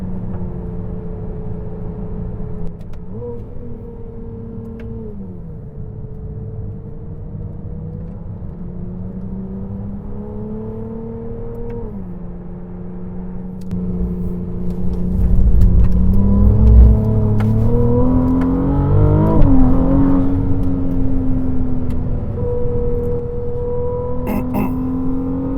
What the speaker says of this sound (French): on est parti pour un tour, enfin plusieurs tours, du circuit de Monteblanco, à côté de Séville, en Ferrari 296 GTB